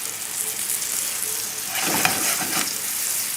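Chilean sea bass searing in a hot pan, a close, steady frying sizzle with a brief louder crackling burst midway.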